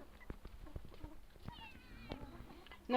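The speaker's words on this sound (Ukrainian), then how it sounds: "Дивіться, які гарні котики." Several cats meowing in short, soft calls scattered over a few seconds, close by with faint background noise and no talking.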